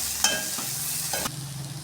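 Roasted peanuts are stirred into sautéed carrots in a hot pan for aval upma, giving a short scrape and clatter of stirring over a soft, continuous sizzle, with no voices.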